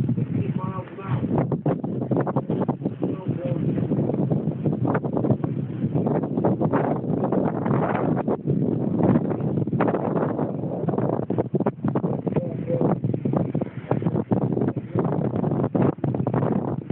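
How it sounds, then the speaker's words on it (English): Strong, constant wind roars in a Chicago blizzard, with gusts buffeting the microphone in a steady, loud rush that continues throughout without letting up. "wind gusts here is up 60 miles an hour"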